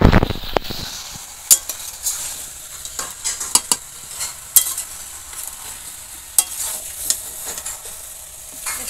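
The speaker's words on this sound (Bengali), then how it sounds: "দশ মিনিট পরে আমি ঢাকাটা খুলে এতে নাড়ছি" Cabbage curry with prawns gets stirred in a large wok once the lid comes off, a spatula scraping and clinking against the metal in irregular strokes over a continuous low sizzle.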